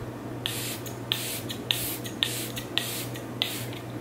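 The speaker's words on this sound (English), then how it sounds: "So I'm gonna spray it. It's a good mist." Six short pumped sprays of makeup setting spray from a mist bottle, evenly spaced at roughly half-second intervals, close and crisp over a quiet room hum.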